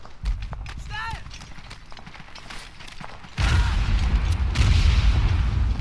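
Mortar fire in the trench warfare game Verdun lands as a heavy, sustained booming rumble that swells partway through, over scattered battlefield noise and muffled voices.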